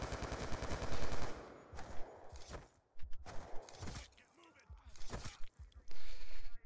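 Bursts of rapid hip-fire gunfire ring out in Call of Duty Black Ops 2, mixed with footsteps and other game sounds, and a voice talks between the shots.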